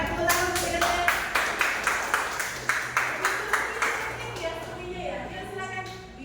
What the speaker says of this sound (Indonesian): silakan tepuk tangan untuk kita